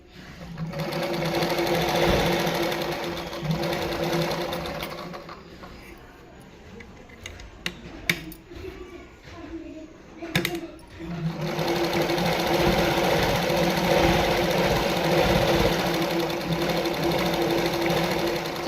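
A zig zag tailoring sewing machine stitches cloth in a steady, rapid mechanical whir, pausing midway among clicks and handling noises before running loudly again.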